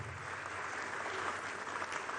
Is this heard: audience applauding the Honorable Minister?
yes